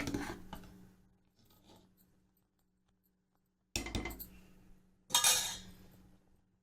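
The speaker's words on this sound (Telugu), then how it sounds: "ఒకసారి కలుపుకుందాం." A metal spoon stirs hotel-style idli sambar in a pot, producing a few faint scrapes and then two sharper clinking bursts against the vessel, with no talking.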